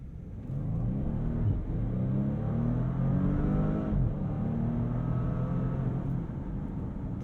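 A 2022 Bentley Flying Spur Hybrid accelerating from inside the cabin, its engine a steady, full rumble with harmonics rising in pitch over several seconds, no talk over it.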